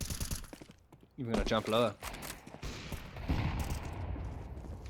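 Gunfire on the Mirage map of Counter-Strike during an esports match. Rapid bursts of shots ring out under excited commentators, who talk throughout.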